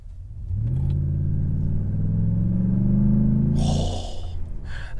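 A pickup truck with an aftermarket upgrade accelerates hard in race mode, its engine roaring and climbing steadily in pitch for several seconds, close and loud, before easing off.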